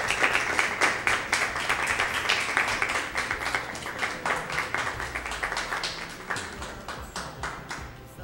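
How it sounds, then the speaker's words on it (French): Audience applause for a speaker at a French Miss USB pageant broadcast: steady, dense clapping that runs the whole time at a moderate level, thinning slightly toward the end, with no clear talk over it. "je demande un grand applaudissement pour Monsieur Pradel."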